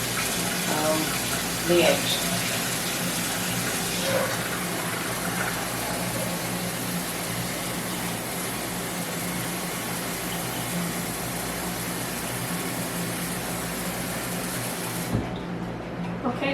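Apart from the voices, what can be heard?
cold water filling a pot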